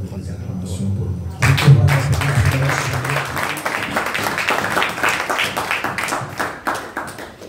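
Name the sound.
congregation applauding in church service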